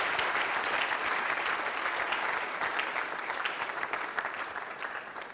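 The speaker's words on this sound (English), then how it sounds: "Please give yourselves a round of applause" An audience at an event in Nigeria claps in a sustained, dense burst of applause that fades slightly toward the end, heard close.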